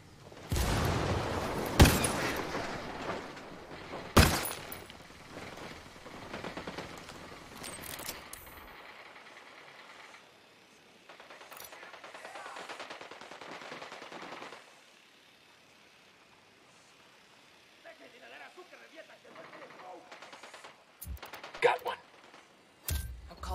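Gunfire in the video game Ghost Recon Wildlands: loud automatic bursts and sharp shots early on, then quieter stretches with scattered shots, and a few loud cracks near the end, with voices talking in between.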